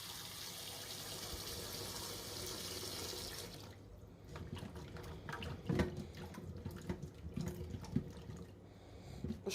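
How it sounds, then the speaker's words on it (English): Hot tap water runs into a cooking pot as it is rinsed out in a home kitchen, a steady rushing stream for the first few seconds, then splashing, sloshing and clattering as the pot is swirled and handled. "Wash it out with some hot water."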